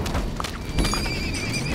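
In the video game Kingdom Eighties, a horse lets out a loud whinny close by, a high wavering neigh over clopping hooves and a low rumbling backdrop.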